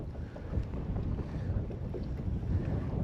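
Strong wind buffets a fishing boat out on the water as a steady, broadband roar with gusty swells, heard without any voices.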